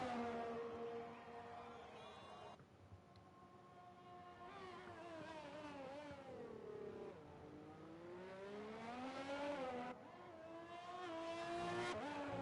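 A Ferrari Formula 1 car in the game F1 2020 screams through a flying lap, its high engine note climbing and dropping through gear changes, loud and continuous with brief lifts.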